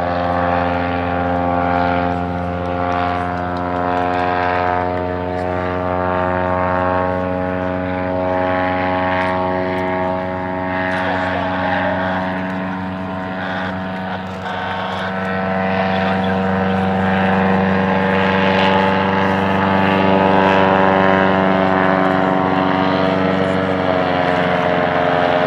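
Propeller aircraft taxi toward departure at a 2018 airshow featuring vintage machines, a loud, steady droning engine with strong harmonic hum holding throughout, close and continuous with no voices over it.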